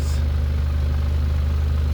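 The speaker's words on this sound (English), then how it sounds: "is loud, but you can hear like an exhaust leak up close. It sounds a bit raspy." A Mazda Miata NC with its stock exhaust and a washer hack idles up close with a steady, loud, low drone that has a slightly raspy edge from an exhaust leak. It runs continuously, with no talk.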